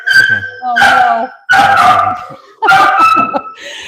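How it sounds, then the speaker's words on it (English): A huge black Italian Mastiff bellows a deep, cow-like call while other dogs bark and yip excitedly, several loud overlapping bursts of barking close by, with a person's voice mixed in. "He's kind of bellowing right now in the background, and he's making the other dogs excited"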